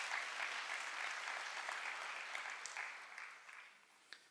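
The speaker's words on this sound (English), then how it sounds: "Let's give them a round of applause." An audience at a Faculty of Engineering and the Built Environment graduation ceremony claps for graduating students, an even, distant-sounding wash of applause that thins and fades out near the end.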